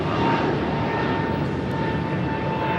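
A jet airliner rolls for takeoff on runway 25 right at LAX, a steady broad engine roar with a sustained whine, loud and continuous without any voices.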